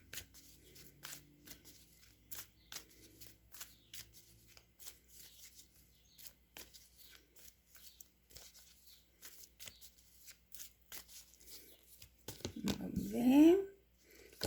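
Tarot-style reading cards shuffled by hand, a soft rapid riffling and flicking that runs through the stretch at low volume, with someone speaking Portuguese over it.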